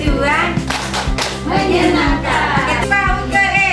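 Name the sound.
children clapping hands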